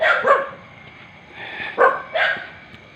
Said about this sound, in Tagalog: Ang daming aso dyan.